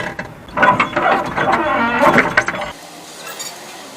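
A ratchet wrench tightens the bucket bolts on a JCB 3DX backhoe, giving a loud, close, rapid metallic clicking for a few seconds before it stops, followed by quieter background.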